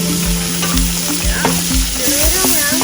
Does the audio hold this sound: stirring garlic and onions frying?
yes